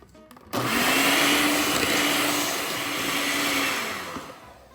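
Electric mixer whirring through pumpkin loaf batter, switching on abruptly and running loud and steady for several seconds with a slight dip in speed before trailing off.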